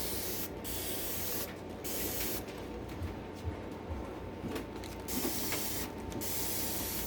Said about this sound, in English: So I just have water. I'm going to spray her down.